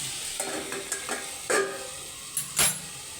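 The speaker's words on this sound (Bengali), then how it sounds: "নেড়ে এটাকে আমরা আবার একে ফেটে দেব" A spatula scrapes and stirs a potato mixture in a frying pan, giving a few separate scraping strokes over a soft, steady sizzle, close up and with no talking.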